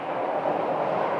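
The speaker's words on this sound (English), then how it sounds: "And of course there's the SkyTrain." The Sky Harbor airport SkyTrain passes with a steady, broad rumbling roar, even and continuous at moderate distance, no voices over it.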